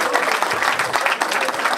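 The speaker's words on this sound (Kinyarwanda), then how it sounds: "Amashyi menshi cyane mu kabya" Guests at a wedding applaud in a steady, dense burst of clapping that continues throughout.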